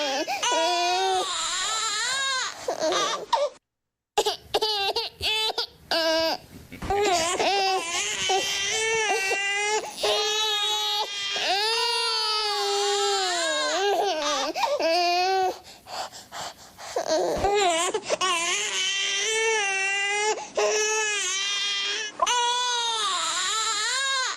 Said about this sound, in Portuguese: Eu quero som de choro!